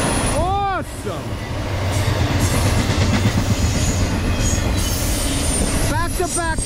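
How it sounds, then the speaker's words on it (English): Ferromex freight locomotive passing outdoors on a rail line, with loud horn blasts at the start and again near the end over a continuous heavy rumble and rattle of rolling freight cars. "We just had a Ferromex locomotive go by on the 268."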